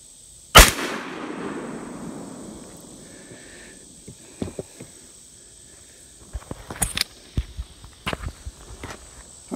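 A single loud, sharp black powder shot from an 1858 pistol cracks near the start and trails off in a long fading rumble, followed by scattered faint clicks and handling noises.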